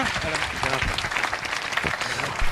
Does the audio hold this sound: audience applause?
yes